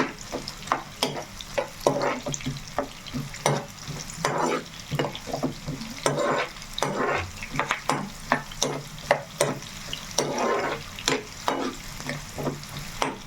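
Onions frying in a pan while chicken joints are being fried, a steady sizzle broken by constant rhythmic scrapes and knocks of a spatula stirring, close and fairly loud, with no speech.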